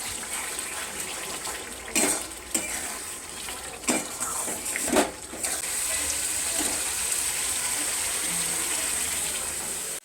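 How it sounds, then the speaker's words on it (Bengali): Water runs from a kitchen tap while chicken is washed, a steady close hiss broken early by a few splashy knocks and clatters, then settling into an even continuous stream. "এখানে আমি মাংসটা ধুয়ে নিয়েছি, দেখো।"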